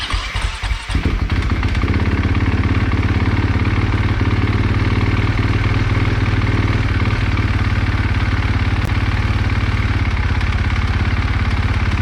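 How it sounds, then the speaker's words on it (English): A KTM 450 SX-F dirt bike engine catches after a brief crank, then settles into a loud, close, steady idle with a rapid rhythmic thrum and clatter. "now we're just gonna start the bike and let it run for a few seconds"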